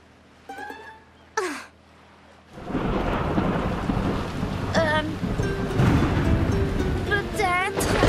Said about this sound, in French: est-ce que c'est une tempête juste là?